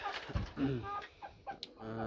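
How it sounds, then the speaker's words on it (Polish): Loud calls of Wallich's (cheer) pheasants kept in an ornamental pheasant aviary, harsh crowing bursts rising and falling over about two seconds. "Strasznie głośne walichy."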